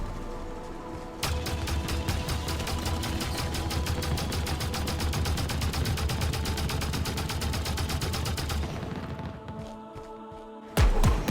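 A Halo weapon fires delayed-explosion projectiles in a long, rapid, evenly spaced stream of sharp reports, steady and loud for about eight seconds before stopping, then a final heavy burst at the end.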